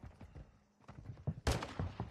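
Gunfire in Modern Warfare 2, a quiet stretch of muffled thuds before a sudden loud close burst of shots, with faint voices underneath.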